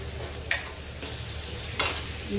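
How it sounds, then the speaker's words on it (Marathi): Onion-garlic masala, garam masala and chopped coriander stir-fried in a pan: a soft continuous sizzle punctuated by two or three sharp spatula scrapes, close and fairly quiet. "थोडेफार कोथिंबीर टाकून परतून घेऊया"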